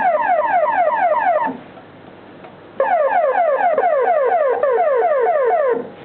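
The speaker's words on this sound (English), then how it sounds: "I did the police siren setup, which does not sound anything like a police siren." A synthesizer patch set up as a police siren gives repeated rapid rising electronic sweeps, loud and close, in two long bursts separated by a short quieter gap.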